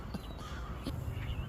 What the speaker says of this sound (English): wish those crows would shut up